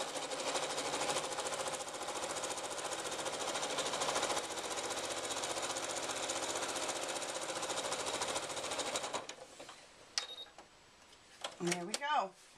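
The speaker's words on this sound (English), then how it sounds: "now I'm going to top stitch along this edge here" A sewing machine top stitches along the edge of an iPad case lining, a steady close mechanical whir for about nine seconds, then stopping, followed by a brief voice and handling clicks.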